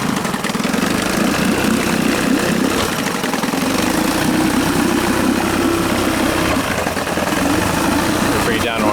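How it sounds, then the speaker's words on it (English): Engine of a 1955 Chris Craft boat idling just after a cold start, a loud, steady low throb that holds its rhythm throughout at close range. "We'll bring it down to an idle."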